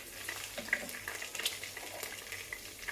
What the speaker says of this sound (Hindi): और ये हरी इलायची डाल दीजिए 3 अदद। इसको हल्का सा भूनने दीजिए।